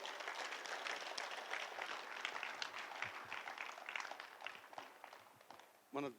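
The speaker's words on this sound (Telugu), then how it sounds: "గట్టిగా చప్పట్లు కొడదాం." Audience applause at a Guru Purnima celebration event, a crowd clapping steadily and fairly loudly for several seconds before thinning out, with a brief louder burst at the end.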